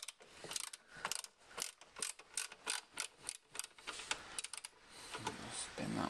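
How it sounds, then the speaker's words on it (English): A ratchet turning Torx T30 screws out of the front bumper of a BMW Mini, giving a close run of quick, regular clicking bursts, with a softer rustle near the end. "these are Torx T30. Got to remove these two here."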